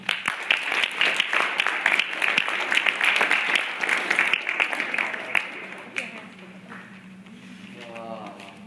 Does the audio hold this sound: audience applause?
yes